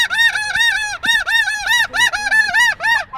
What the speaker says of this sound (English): Some absolute beautiful snow geese.